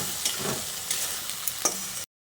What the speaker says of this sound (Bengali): ভাজা আলুগুলো দিয়ে মশলার সঙ্গে আবারও ভালো করে নেড়েচেড়ে মিশিয়ে নিচ্ছি।